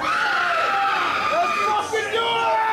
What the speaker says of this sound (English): I figure you guys could probably scream out some fucking noise along with us.